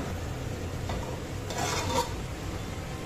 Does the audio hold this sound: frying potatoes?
yes